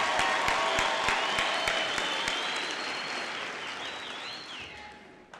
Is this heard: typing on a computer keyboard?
no